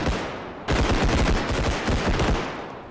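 Gunfire in the video game Bodycam: after a brief lull, a loud burst of rapid, close shots rattles on in dense, repeated cracks, then fades slightly toward the end.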